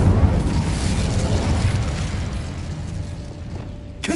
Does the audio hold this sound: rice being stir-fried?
no